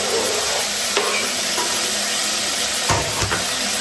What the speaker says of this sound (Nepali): अब चाहिँ प्याज हाल्दैछु यहाँ मैले काटिरहेको छु यो प्याज हालिदिनु